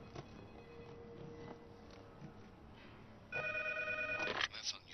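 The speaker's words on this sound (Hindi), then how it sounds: "मैडम, फंग यू सा का फोन है" A telephone rings in a short electronic burst after a quiet stretch with faint movement, fairly near and clear.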